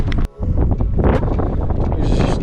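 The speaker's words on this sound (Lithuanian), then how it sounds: "čia vėjas baisus" Strong wind at Ponta de São Lourenço buffets the microphone in loud, continuous rumbling gusts, with one sharp momentary drop near the start before the roar resumes.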